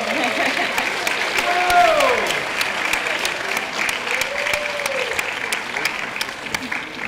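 A crowd applauds an award recipient at a high school senior awards ceremony, with sustained clapping across the whole stretch, loudest near the start. Cheering voices and chatter rise over it in places.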